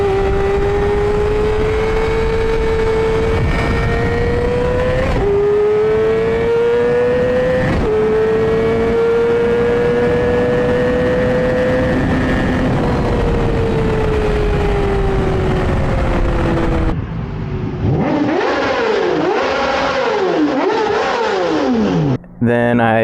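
A 2009 Yamaha R6 sport bike engine revs hard toward its 16,500 RPM redline in several rising, whining pulls, loud and close, before shifting to a rougher, choppier burst near the end.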